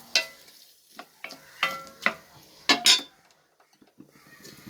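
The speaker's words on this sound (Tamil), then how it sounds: "தக்காளி வதங்கட்டும்" Tomatoes cook in a pan for netholi fish soup, with a few sharp scraping stirs and utensil clinks over a faint sizzle, irregular and close.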